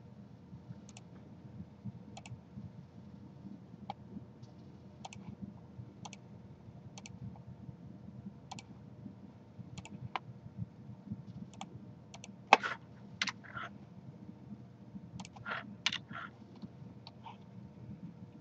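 Quiet computer keyboard typing while drafting, with sparse single key taps and spacebar presses scattered over a steady low hum and a brief cluster of quicker clicks partway through.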